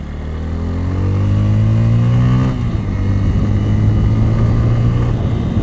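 A Bajaj Pulsar N160, a 160 cc motorcycle, accelerates hard in third gear, its engine note climbing steadily for a couple of seconds before settling into a loud, sustained drone, heard close with no talking.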